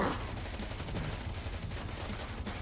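Video game gunfire rattles in a dense, steady stream of rapid shots throughout, loud and unbroken, with no talking over it.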